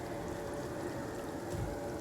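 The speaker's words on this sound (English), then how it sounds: "And it's raining." Steady rain falling in the video game Divinity: Original Sin, a quiet, even patter of drops on surfaces continuing without pause, soft and ambient with no voices.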